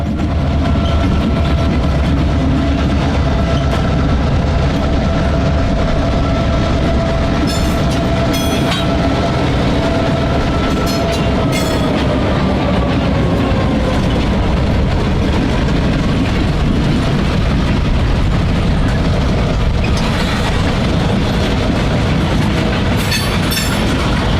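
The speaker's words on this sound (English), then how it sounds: "we found this pair of GP38-2s on train B34" A pair of GP38-2 diesel locomotives hauls a short freight, train B34, in a loud, sustained rumble with rolling wheel noise and intermittent clicks and squeals of the cars passing close by.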